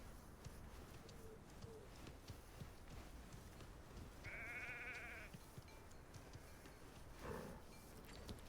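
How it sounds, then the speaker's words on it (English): A sheep in the video game Hogwarts Legacy gives a single drawn-out bleat partway through, heard alone over a low, steady game ambience with a brief fainter call later. "Sheep."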